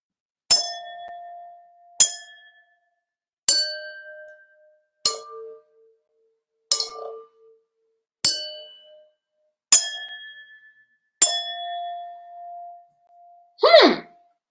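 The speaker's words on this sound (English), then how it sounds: "let's see what happens when I hit each of the glasses with a chopstick" A chopstick strikes water-filled glasses one after another, eight clear ringing dings with distinct pitches, each decaying before the next, then a brief wavering tone at the end.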